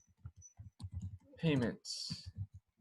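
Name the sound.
typing on a computer keyboard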